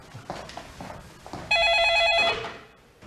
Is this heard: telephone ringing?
yes